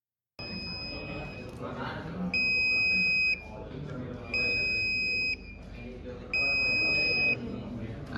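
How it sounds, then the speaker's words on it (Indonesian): An electronic buzzer in an embedded-system circuit beeps three times, each tone lasting about one second with short gaps between, sounding fairly loud over a steady background hum. "buzzernya itu akan nyala dan bunyi selama 1 detik lalu akan mati gitu"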